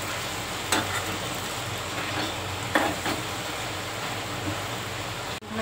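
Vegetables being stirred in hot oil in a pan, a steady sizzle with a few scraping stir clicks, close and continuous throughout.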